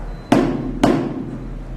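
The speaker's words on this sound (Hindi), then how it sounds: "और ये है प्लास्टिक की डिबिया, उसकी आवाज।" Two sharp taps on a small plastic box, spaced about half a second apart, each a short hollow knock against quiet background.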